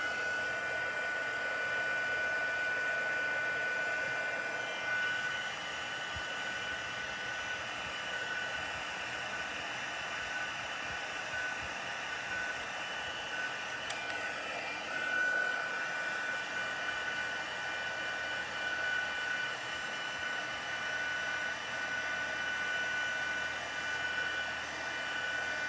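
A heat tool blows a steady, even whoosh of hot air to melt embossing powder on stamped leaves, running continuously for the whole stretch at moderate volume with no talking.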